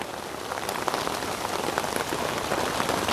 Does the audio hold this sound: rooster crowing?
no